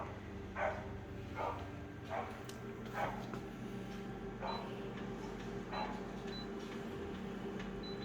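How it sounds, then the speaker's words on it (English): Faint barks from a dog in the distance, repeating at a slow, fairly regular pace over a steady low hum. "Someone's dog's barking."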